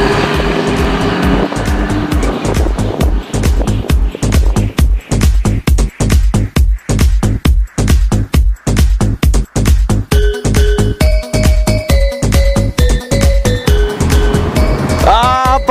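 Heavy trucks at a busy roadside truck stop during the potato harvest, one pulling in and another pulling out, with loud engines, air-brake hisses and horn blasts sounding in rapid bursts, plus a rising horn tone near the end.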